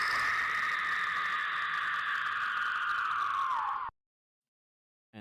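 A long, drawn-out scream sample in a phonk beat, held loud and steady for nearly four seconds, sliding slightly downward in pitch before cutting off sharply into silence.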